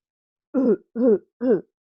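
Three short, harsh barking coughs evenly spaced, made by a voice imitating the dry, croupy cough of laryngitis, loud and close with silence between.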